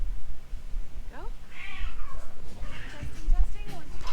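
A cat meows a few times, short rising cries close by, mixed with indoor room noise and a person talking.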